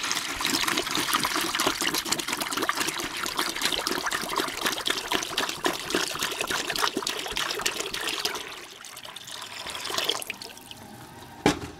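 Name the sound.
hot tap water poured from pot into bucket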